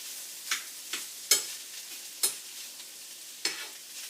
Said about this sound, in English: Just gonna fry it up a little bit.